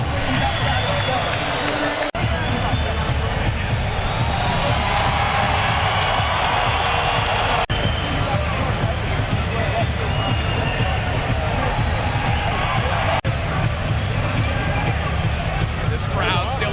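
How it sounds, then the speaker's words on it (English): A boxing crowd giving an ovation: a loud, steady roar of cheering and applause that fills the whole stretch, with a commentator talking over it. "this crowd still erupting every time Xander's on"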